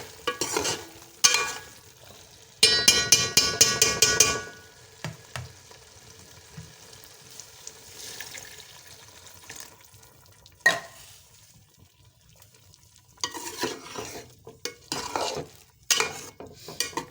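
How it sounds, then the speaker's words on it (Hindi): Water is poured into a pan of frying potatoes and peas, setting off a loud burst of sizzling, followed by scattered utensil scrapes and stirring clatter against the pan. "अब हम इसमें पानी ऐड करेंगे।"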